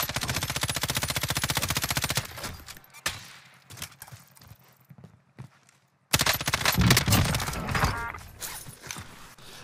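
M13 assault rifle in a video game firing rapid automatic bursts, loud at the start and again near the end, with quieter scattered shots and clatter between.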